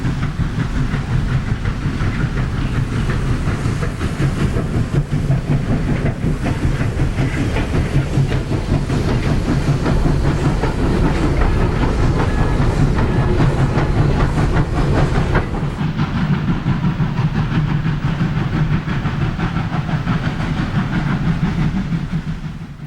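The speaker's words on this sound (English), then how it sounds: "The train is headed in the opposite direction at Broad Run." Vintage steam locomotive number 4501 hauling coaches on a rural Virginia branch line, a loud, steady rumble with continuous clickety-clack and hiss, easing slightly near the end.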